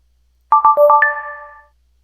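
A phone ringtone in a basketball video game chimes a quick run of four or five bright electronic tones that ends on a sustained note and fades out, clear and alone with no talk.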